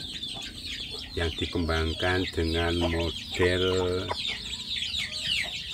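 Village chicks in a rearing box keep up a busy, high-pitched cheeping throughout, beneath someone speaking nearby in the foreground.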